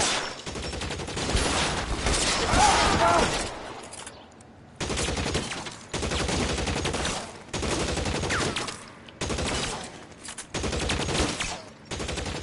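Gunfire in an L.A. Noire shootout, loud bursts of shots coming in repeated volleys separated by short gaps, with some voices mixed in.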